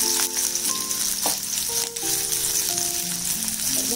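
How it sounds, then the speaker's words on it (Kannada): One large chopped onion fries in a pan, giving a steady, close sizzle with faint tonal music in the background and no talk. "ಫ್ರೈ ಮಾಡ್ಕೋಬೇಕು ಕೆಂಪಗೆ"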